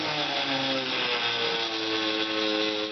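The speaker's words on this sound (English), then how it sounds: "I'm just going to take a grinding wheel and just cut this bolt and get it out that way," A grinding wheel cuts through a leaf spring shackle bolt on a Chevrolet Silverado-type truck, giving a steady, loud, high whine with a droning tone, continuous and alone at close range.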